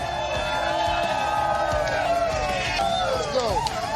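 A big crowd cheers and whoops at a political campaign rally in Georgia, with loud, continuous roaring, scattered shouts and hubbub rising throughout, close and dense.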